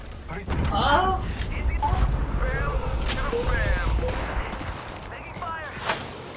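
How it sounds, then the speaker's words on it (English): Gunfire in a shooter video game, bursts of shots and rattling fire under the voices of several people talking over each other, with a sharp crack near the end. "Taking fire."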